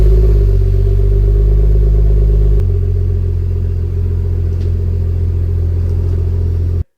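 A BMW 335i E92 with a newly fitted catback exhaust cranks and fires up, a loud close engine start at about two and a half seconds that settles into a deep steady idle rumble before cutting off.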